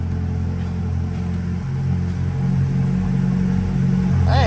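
A Chevrolet Corvette C8 pulling away after a transmission replacement, its engine a steady close rumble that builds slightly toward the end, with no talking over it.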